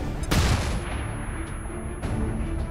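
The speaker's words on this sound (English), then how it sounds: "A flashbang that hits both." A flashbang grenade bursts in XCOM 2 Long War 2, one loud close blast with a lingering rumble and a smaller pop near the end.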